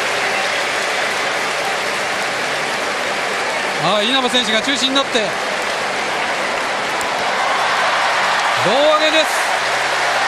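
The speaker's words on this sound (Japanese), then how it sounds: "4万を超える大歓声。" A huge stadium crowd of more than 40,000 fans roars steadily as Rakuten players toss manager Katsuya Nomura in the air in 2009. A commentator talks over the noise in two short bursts.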